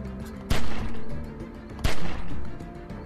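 Two sharp gunshots in The Walking Dead: 400 Days, spaced over a second apart, each a loud close crack followed by a short echoing tail.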